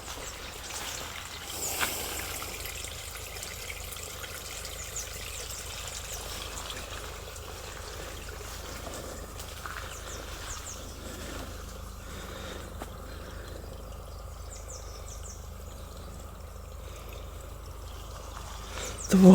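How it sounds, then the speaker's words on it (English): A garden stream flows gently with a soft, continuous trickle, quiet and close in an otherwise calm outdoor setting. "The water's flowing in quite a gentle way today."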